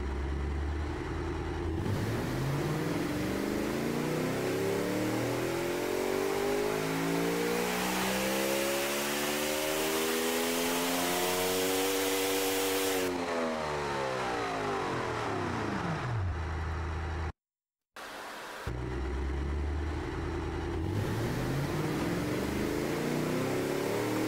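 A tiny turbocharged 1-litre car engine in Automation the car company tycoon, on a dyno run, revs up steadily in a long rising sweep, peaks, then drops off, with a brief cutout before idling and revving again close by.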